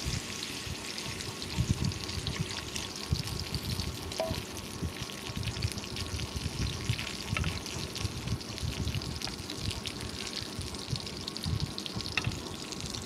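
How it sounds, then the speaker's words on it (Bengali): Water is poured into a pan of fried hilsa fish and yam curry, a steady rushing splash mixed with bubbling sizzle that continues evenly at moderate loudness throughout, with no talking. "এখন আমি পরিমাণ মতো জল দিয়ে ঝোলটা দিয়ে দেবো"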